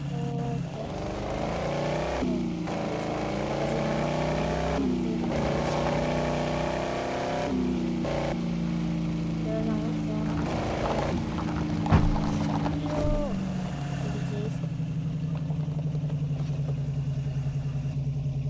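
A car engine in a driving video game hums and revs steadily, its tone rising and falling with gear shifts and throttle changes, up close and without voices.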